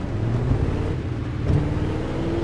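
A car engine in a driving video game hums steadily at close range with a slight rise in revs partway through, with no talk over it.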